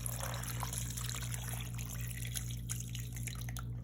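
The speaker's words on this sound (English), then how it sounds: "I'll be adding some water to cover the meat" Water poured into a cooking pot over goat meat with chopped onions for pepper soup, a soft continuous trickle and splash with small drips, faint and close, over a steady low hum.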